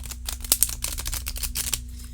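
A Woodland Wardens card deck is shuffled close up, giving a rapid run of crisp paper riffles and clicks that lasts about two seconds.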